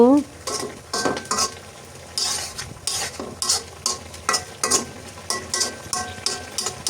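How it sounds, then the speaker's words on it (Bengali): Fish head and winter vegetables fry in a pan, a close sizzle broken by frequent rhythmic scraping strokes of a spatula against the metal, steady and loud without speech. "আবার একটু নেড়ে চেড়ে ঢেকে আবার রান্না করব"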